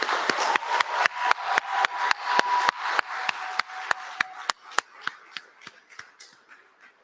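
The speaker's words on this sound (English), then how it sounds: "Let's give them a round of applause." Applause from a university graduation ceremony audience, loud and dense at first, then thinning into scattered individual claps that fade out over about seven seconds.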